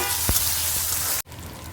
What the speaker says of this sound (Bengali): শুটকিটা তেলের মধ্যে একটু ভাজা ভাজা করে নিবো পেঁয়াজের সাথে